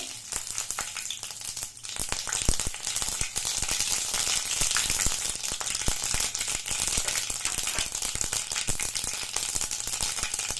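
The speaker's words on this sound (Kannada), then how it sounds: "ಈ ಎಣ್ಣೆ ಕಾದಿದೆ ಸೊ ನಾನು ಒಂದು ಟೇಬಲ್ ಸ್ಪೂನ್ ಆಗೋಷ್ಟು ಸಾಸಿವೆ ಹಾಕೋತಾ ಇದ್ದೀನಿ" Mustard seeds, about a tablespoon, crackle and sizzle in hot oil for a South Indian drumstick sambar tempering, a steady close frying hiss with sharp popping crackles throughout, no talk.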